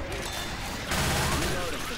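Rapid, dense gunfire in the zombie shooter Left 4 Dead 2, a steady barrage of shots that grows louder partway through, with voices talking over the noise.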